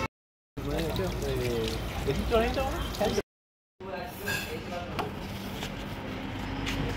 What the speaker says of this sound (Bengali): দেখো সবাই মিলে এখন হাত ধুতে যাচ্ছি, এরকম পরিবেশে এখন হাত ধোবো।